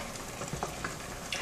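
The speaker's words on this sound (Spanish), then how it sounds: "Y seguimos revolviendo para que todo se integre muy bien." Chicken entomatado sauce stirred in a frying pan: a soft, continuous sizzle with faint scraping of the spoon, close and steady.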